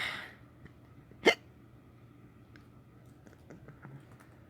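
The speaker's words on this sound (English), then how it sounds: "To top everything off, I happen to have the hiccups" A single sharp, close hiccup jolts out of a quiet room, with faint computer keyboard clicks scattered before and after it.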